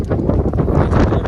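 Steady cold wind buffeting and roaring across an outdoor microphone in hilly Mahabaleshwar, a continuous low rumble with gusty rustling throughout.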